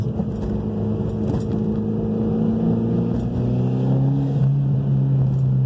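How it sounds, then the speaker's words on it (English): A Mitsubishi Evo X running under steady load inside the cabin, its engine and turbo giving a continuous rising drone with whining tones, loud and close, with no talking. "Here's the turbo spool blow off."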